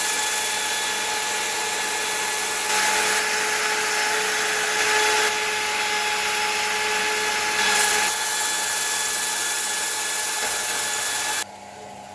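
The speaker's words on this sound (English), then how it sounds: "let's get sanding, and hopefully we can smooth this bowl up." A steady, high-pitched power sander whine on a wooden bowl runs continuously with slight surges in loudness, then drops off abruptly near the end, leaving a quieter hum.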